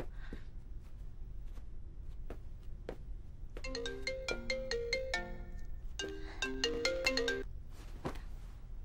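A mobile phone ringtone plays a quick melodic sequence of bright electronic notes in two bursts, fairly faint against a quiet indoor background with a few soft knocks or footsteps before it.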